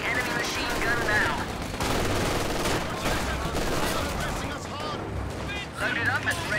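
Machine-gun fire and other gunfire crackle through a battle in the Company of Heroes 2 video game, dense bursts of shots with explosions and game voices over the fighting.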